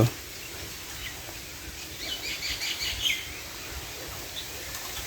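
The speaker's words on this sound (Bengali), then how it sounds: "পাখির কিচিরমিচির শব্দ" Birds chirp in short, faint calls across the middle of an otherwise quiet outdoor scene in a green rural village area of Mymensingh, Bangladesh, with soft steady background ambience.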